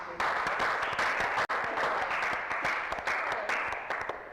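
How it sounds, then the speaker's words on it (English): Sustained applause from an audience after a student debate at an engineering event, a dense even wash of clapping that holds steady for several seconds with a brief dropout near the middle. "I think a round of applause"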